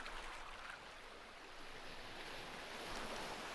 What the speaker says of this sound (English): nice waves rolling in really